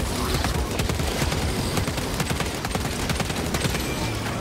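Pistol fire during combat in the game Space Marine 2, a dense, loud, rapid stream of shots and impacts running without pause through a noisy battle din.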